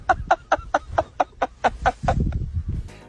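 Chicken clucking in repeated short, evenly spaced bursts about four per second, loud and close, then giving way to a rougher, busier stretch of low rustling and scuffling at the end.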